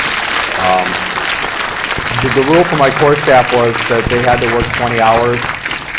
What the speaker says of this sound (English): let's give a quick round of applause to all the great staff and volunteers